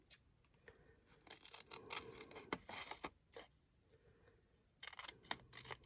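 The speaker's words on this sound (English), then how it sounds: "These are not the ideal scissors for me" Quiet, irregular snips of scissors cutting through paper, in short clustered bursts with brief pauses, close by and without talk.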